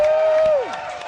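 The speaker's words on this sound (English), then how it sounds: "Now that cheer" A studio audience cheers and applauds for running back Eddie Lacy, a steady wash of crowd noise that fades after about half a second while one voice holds a long shout.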